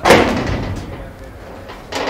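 A stainless steel almirah door swings open in a furniture market with a short metallic thud and rattle at the start, then a brief clank near the end, with a voice speaking over it.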